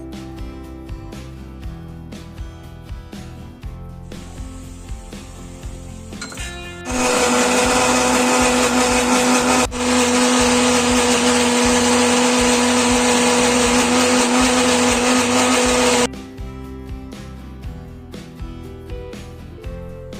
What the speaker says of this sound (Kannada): ಈಗ ಇದಿಷ್ಟು ಇಂಗ್ರೀಡಿಯೆಂಟ್ಸ್ನ ಮಿಕ್ಸಿಗೆ ಹಾಕ್ಕೊಂಡು ಇದನ್ನು ಫೈನ್ ಪೇಸ್ಟಾಗಿ ಮಾಡ್ಕೊಳ್ಳಿ.